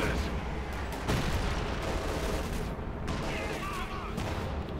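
Sturmpanzer bombardment and small-arms fire in a Company of Heroes 2 battle on icy ground: dense, continuous rumbling explosions and crackling shots forming a loud, unbroken wall of noise, with faint overlapping game voices.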